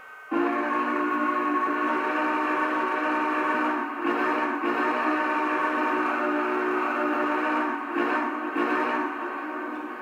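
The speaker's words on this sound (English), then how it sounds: "Starting off with the whistle." A steady, sustained steam whistle from a Lionel Legacy EM-1 model locomotive, harmonic and loud, with brief dips and restarts near the end, no talking.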